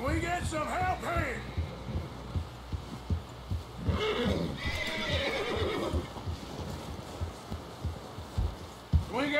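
In the Red Dead Redemption 2 western game, a horse whinnies loudly near the start and again midway, with rhythmic hoof clip-clops throughout and people talking in between.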